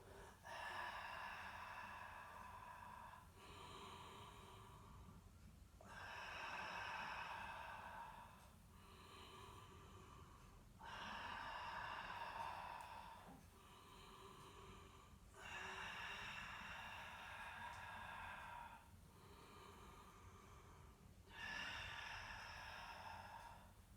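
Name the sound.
breathing during Pilates exercises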